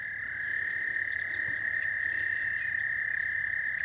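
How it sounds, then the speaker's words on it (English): A frog sitting in the grass outdoors gives a steady, continuous high-pitched trill that carries on unbroken over faint background noise. "there's a frog sitting in the grass"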